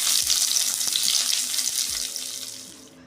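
Bitter gourd slices sizzle and crackle steadily in hot oil, a dense frying hiss that gradually softens toward the end, with no talking.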